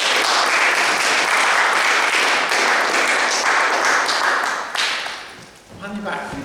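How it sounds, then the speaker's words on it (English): Audience bursts into close, loud clapping for a quick joke at a live show, dense and even for several seconds before thinning out as a voice starts talking at the end. "Hands up, round of applause, David."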